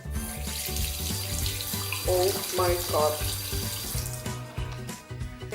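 Water gushes steadily from a bathroom tap in a flat in Poland, a loud continuous splashing stream, while a voice exclaims briefly over it.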